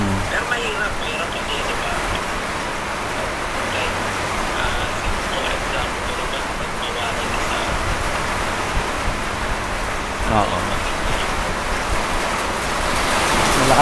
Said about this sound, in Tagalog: Standby tayo, magpatigil lang tayo na ano ng ulan. Masyadong malakas.